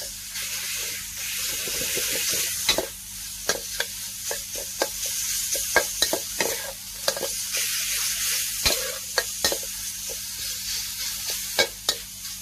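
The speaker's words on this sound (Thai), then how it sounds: "ผัดกระเทียมหมูสับสามอย่างให้หอม ให้สุกอย่าให้หนูเป็นก้อนนะคะ ผัดไปเรื่อยๆค่ะจนแห้งค่ะ" Garlic and minced pork sizzle in a hot pan as they are stir-fried, with a steady frying hiss broken by repeated sharp scrapes and clacks of the spatula at an irregular rhythm.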